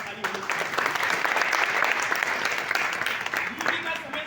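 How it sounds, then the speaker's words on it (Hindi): Loud, dense applause from an audience honouring a guru at an AWPL achievers' event in Kannauj, sustained clapping throughout with voices mixed in. "गुरुजी के लिए एक बार जोरदार ताली होनी चाहिए।"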